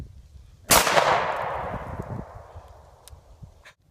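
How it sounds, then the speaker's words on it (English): A single shotgun blast outdoors at a range of about 30 yards, one sharp loud report followed by a long fading echo and tail, with no talking. "was just shooting the shotgun"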